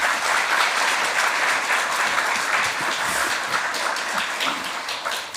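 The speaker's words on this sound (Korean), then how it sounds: "우리 감사의 박수 드리겠습니다" A church congregation at an early-morning year-end revival service applauds to welcome the visiting pastor, a dense, sustained wash of many hands clapping that fades slightly toward the end.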